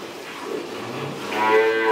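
A young dairy cow gives a low, drawn-out moo that swells toward the end, heard over steady outdoor background noise.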